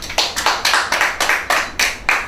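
Audience clapping for a top CSEC science-stream graduate at a 2017 awards ceremony, about nine distinct, evenly spaced claps in a steady rhythm, fairly loud and close, with no talk over it.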